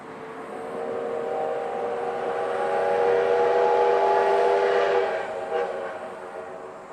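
The SL Yamaguchi steam train rumbles past, heading into the mountains between Yamaguchi and Tsuwano, while a long, sustained whistle swells to full loudness, holds, and then fades away.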